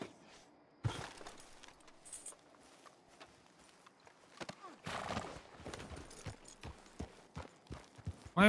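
A horse in the video game Red Dead Online, with a sharp whinny, scattered clip-clop hoofbeats and occasional bursts of movement, mostly faint against a quiet background.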